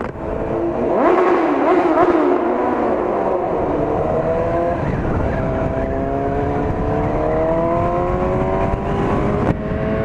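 A motorcycle engine accelerating on a US highway, close and loud, its revs climbing through the first couple of seconds and then holding a strong, steady high-pitched drone with wind rush throughout.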